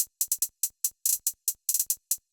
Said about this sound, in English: So now you can just quickly hear with the melody how the two different hi-hats would sound.